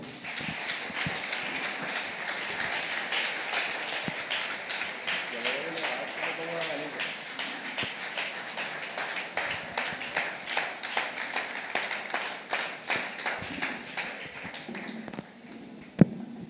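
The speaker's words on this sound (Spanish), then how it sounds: "Démele otro aplauso a Cristo." Audience applause in a church service, a sustained crowd clapping that stays loud and dense throughout, with rhythmic claps emerging in the second half.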